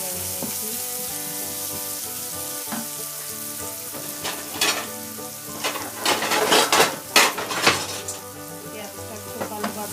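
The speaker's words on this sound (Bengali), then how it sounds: "দিয়ে আবারও আমি পেঁয়াজটাকে খুব ভালোভাবে নেড়ে নিচ্ছি।" Chopped onions and green chillies stirred while frying in a pan for a kachki fish chorchori, a steady sizzle under scraping spatula strokes that grow busier and louder midway, with faint background tones and no talk.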